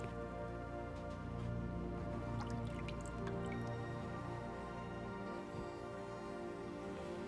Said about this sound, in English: This stone needs to be soaked in water 20 to 30 minutes before I can use it.